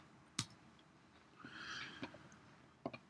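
Computer mouse clicks from someone working in an invoicing program, a few sharp isolated clicks spaced apart with a soft faint background sound between them.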